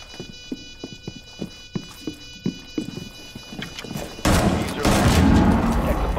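Gunfire in the video game Rainbow Six Siege: a run of quick, evenly spaced shots crackles at moderate level, then a louder, dense burst of noise takes over for the last couple of seconds.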